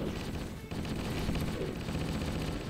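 Enemy gunfire in Halo: Combat Evolved, a dense, continuous rattle of shots mixed with game sounds, with faint talk underneath.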